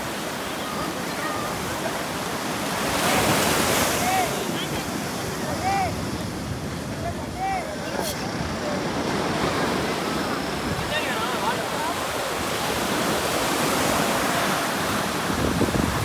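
Ocean surf crashes and rolls steadily against the shore at Rock Beach, Pondicherry, with wind buffeting the microphone and faint voices in the background.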